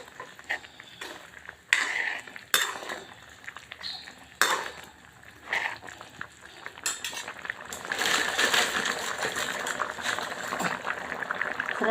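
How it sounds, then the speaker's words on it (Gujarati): A fenugreek and spinach curry bubbling at a boil while a spoon stirs it, with clinks and knocks against the pot in the first half, then a louder, denser bubbling and sizzling wash toward the end, close by. "હું ચમચાથી આવી રીતે મિક્સ કરું છું."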